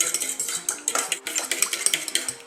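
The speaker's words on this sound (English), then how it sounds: "So you just stir it up." A utensil stirs egg whites with cinnamon in a dish, giving quick, repeated clinks and scrapes in an uneven rhythm, close and moderately loud.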